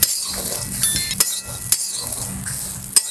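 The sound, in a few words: guar beans dry-roasting in a pan without oil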